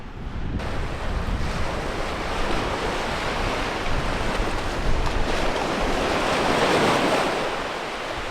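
Steady rush of turquoise surf breaking on the shore of Playa Balandra beach in La Paz, Mexico, with constant wind buffeting the microphone, no voices.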